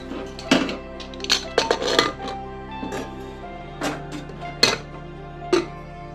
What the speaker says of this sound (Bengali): তো এখন ঢাকনাটা লাগিয়ে দিই